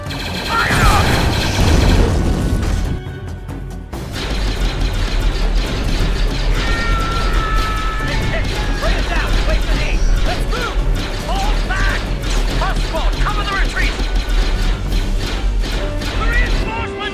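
A Star Wars Clone Wars battle fills the scene with dense, continuous blaster fire and crashing impacts, loud and relentless. Voices shout over the din.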